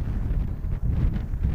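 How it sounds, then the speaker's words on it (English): Loud wind buffeting the microphone in low rumbling gusts at a canyon in the central Utah desert, rising and dipping briefly over a second or two, with no voices. "it's pretty windy up here"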